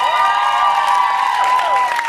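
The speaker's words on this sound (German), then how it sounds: "Und euer Applaus für die rechte Seite." Audience at a popping dance battle claps and cheers for one side, a dense, steady wash of applause with whoops and voices, loud and continuous, though tonal music-like lines run through it.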